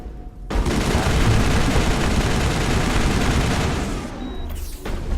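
Sustained automatic gunfire in the video game Mass Effect 1, a dense, loud rattling fusillade lasting several seconds before cutting off abruptly.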